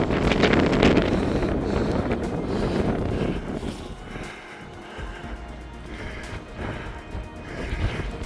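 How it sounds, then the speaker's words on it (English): Strong wind funnelling up a mountain corrie on Buachaille Etive Mòr in Glencoe, a loud continuous roar that buffets the microphone and dips slightly partway through before building again. "The wind is definitely picking up as it's getting funneled up the corrie."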